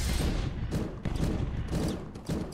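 Gunfire in the Deer Simulator video game, a dense burst of several loud, overlapping shots and booms filling the clip with a steady, rumbling barrage and no talk.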